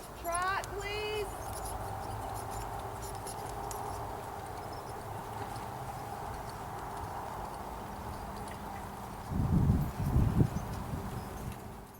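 A horse trots in a hunter hack class, its hooves clip-clopping faintly and steadily at a distance, with a brief whinny-like cry early on and a louder thumping stretch near the end.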